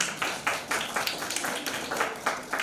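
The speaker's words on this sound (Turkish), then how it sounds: "Hadi alkışlayalım" Audience applause at a school half-term break ceremony, a steady patter of many hands clapping in uneven bursts, fairly close and moderately loud, with no talk over it.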